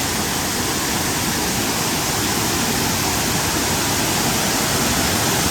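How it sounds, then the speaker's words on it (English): Heavy rain shower pouring down at a waterfall, a dense, unbroken hiss of falling water that stays loud and even throughout. "Coming a pretty good rain shower."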